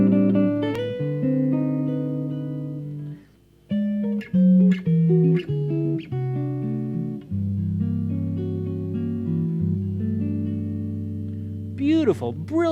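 A jazz guitar plays a short closing phrase of sustained, tense chords and single notes, close and clear, ending in a ringing flourish.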